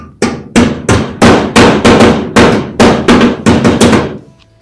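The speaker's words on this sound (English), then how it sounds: "Now we got a little hammer work to do there" Twelve loud, ringing hammer blows strike a metal floor pan on a 1970 Dodge Challenger in a steady rhythm, close up, each clang decaying briefly before the next.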